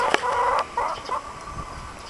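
A few hens cluck softly nearby in short bursts, with a sharp tap and quiet background between calls.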